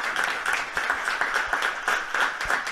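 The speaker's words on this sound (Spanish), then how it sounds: "a ver si el aplauso de la afición" Football fans at a Club Deportivo Mosconia tribute clap in a loose, pulsing rhythm, moderately loud with distinct claps rising and falling in waves.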